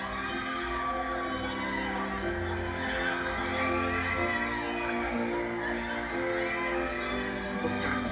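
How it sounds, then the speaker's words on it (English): A crowd of women screams and shrieks excitedly after opening gift boxes that hold earrings, a loud, sustained wash of overlapping high-pitched cries and cheers. "People start screaming and falling out because when you open the box, there are these earrings."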